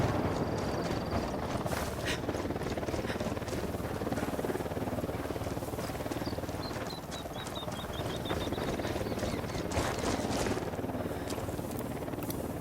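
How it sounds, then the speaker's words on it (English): A helicopter in the tactical shooter game Ghost Recon Wildlands drones steadily with a continuous rotor wash and engine hum, holding a constant level across the whole stretch with faint bird-like chirps above. "Chopper incoming."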